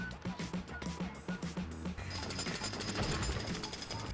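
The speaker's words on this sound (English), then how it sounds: "Oh, we have a jackhammer." Rapid mechanical hammering from a jackhammer in the Lego City Undercover video game: a steady pounding rhythm for about two seconds, then a dense, loud, continuous rattling roar.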